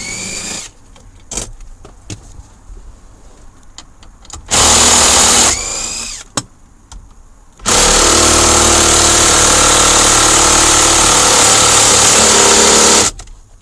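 Power drill or impact driver removing 10mm dash screws from a push-to-start Toyota Camry, with two sustained loud whirring bursts of several seconds each, separated by quieter clicks and handling noise.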